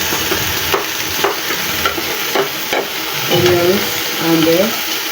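Chopped onions frying in a pot for afang soup with cow tail and stockfish, a steady loud sizzle with repeated stirring scrapes, under occasional talk.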